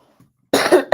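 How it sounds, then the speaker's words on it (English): A single close, harsh cough bursts out and is quickly followed by a second shorter one, with near silence before. "I got a cough here."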